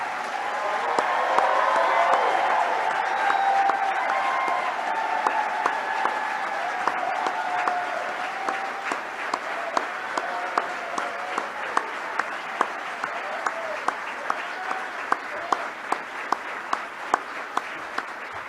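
Sustained applause from a large audience at a conference of historically Black colleges and universities, honoring HBCU Competitiveness Scholars; dense, even clapping fills the hall, with a faint voice early on and sharper individual claps standing out toward the end.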